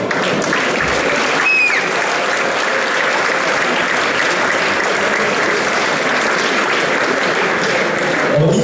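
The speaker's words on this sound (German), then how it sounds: "großer Applaus nochmal an euch" Sustained, loud applause from a courtyard concert audience, dense clapping that continues steadily throughout with no pause.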